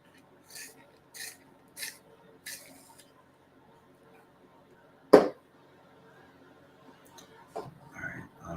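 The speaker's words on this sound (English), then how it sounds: "I gotta sharpen this damn thing again" A blade being sharpened: four evenly spaced rasping strokes, faint and close, then a single sharp thump and some quieter handling noise.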